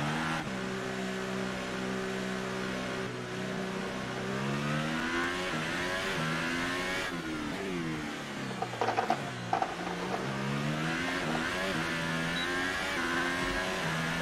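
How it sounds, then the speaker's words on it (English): A McLaren Formula 1 car's engine in the F1 2018 racing game, Austrian Grand Prix, revs steadily and loudly, its pitch climbing and dropping repeatedly through gear changes, with no talking. "those engine sounds are extremely silent"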